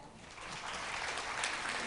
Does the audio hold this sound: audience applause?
yes